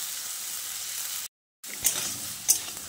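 Diced potatoes frying in oil over a medium flame, a steady close sizzle and hiss broken by a brief silent gap, with a few crackling pops as stirring resumes.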